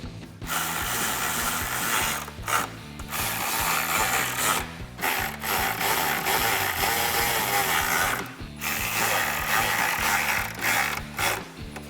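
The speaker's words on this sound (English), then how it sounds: "Now take your 8mm Allen bit or key and tighten down your hinge bolts." An 8mm Allen key tightens the hinge bolts of a tailgate reinforcement mount on a 2021–2022 Ford Bronco, making repeated close ratcheting clicks and metallic grinding in short bursts with brief pauses.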